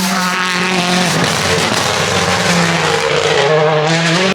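A WRC rally car at speed on a Croatian rally stage, a loud, high-revving engine howl passing close by with shifting pitch and tire noise, heard alone without talk.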